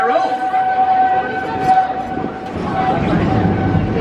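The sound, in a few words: Disney railroad train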